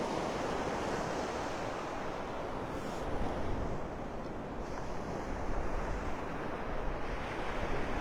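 Ocean surf breaking and washing up on the beach at Delnor-Wiggins in North Naples, Florida, a steady, loud wash of waves with wind noise on the microphone throughout, no talking.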